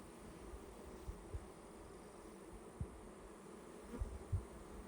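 Honey bees buzzing at an opened hive during an inspection, a faint steady hum of many insects with occasional soft knocks and bumps nearby.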